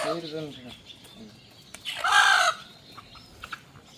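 A desi chicken clucks and squawks before slaughter, one loud agitated burst standing out among fainter clucks, with a person talking at the start.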